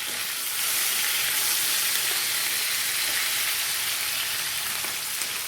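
Mackerel fries in a pan over low heat, giving a steady, dense sizzle that runs throughout without a break, with no voices.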